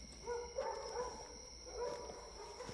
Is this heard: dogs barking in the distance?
yes